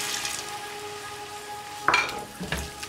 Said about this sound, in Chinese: 放入焯水的白玉菇，继续翻炒半分钟